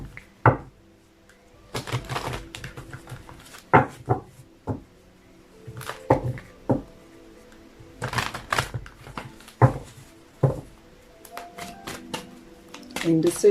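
Oracle cards from the Wisdom of the Oracle deck being shuffled and handled, a series of sharp close riffling bursts and papery slaps at an irregular rhythm, with quiet gaps between.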